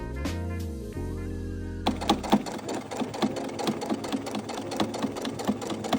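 A sewing machine stitches the facings of a denim jacket together, starting after a low mechanical hum and then running in a fast, rhythmic, clattering pulse close by.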